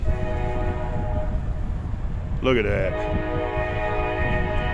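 Train passing near an old cemetery, a steady rumbling roar with a loud horn blast partway through, wind buffeting the microphone and a voice speaking briefly.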